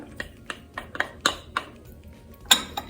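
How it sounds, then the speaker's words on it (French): A utensil taps and scrapes against a baking dish while whole-kernel corn is spread over ground meat for a Québec pâté chinois, giving a quick string of light clinks and clatters with one louder knock near the end. "je vais couvrir avec le maïs entier comme ça"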